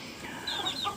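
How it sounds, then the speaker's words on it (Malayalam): Hens in a flock of native Kerala breeds cluck and cackle after laying eggs, several high, bright calls rising over a steady background din, close and moderately loud. "മുട്ടയിട്ടതിൻ്റെ ബഹളമാണ് കേൾക്കുന്നത്."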